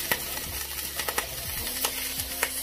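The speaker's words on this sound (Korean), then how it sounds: "그래서 저는 그냥 센 불에 지글지글 구워요." Beef tenderloin steak searing in a pan over high heat, a steady crackling sizzle with small pops and occasional scraping or stirring sounds, close and moderately loud, no voices.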